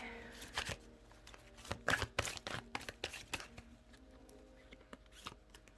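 Tarot cards are shuffled by hand on a cloth, a quick burst of crisp riffling flutters and soft slaps in uneven clusters, close and fairly quiet.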